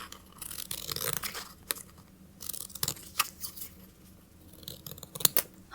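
Scissors snip through layered paper to cut out planet shapes, giving close, crisp cutting strokes in short bursts, with pauses and sharp rustles between cuts.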